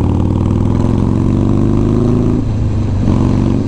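A Harley-Davidson Sportster Iron 883 motorcycle engine runs close and loud in a deep, throbbing idle, its low rumble briefly rising and dipping once, with no talking.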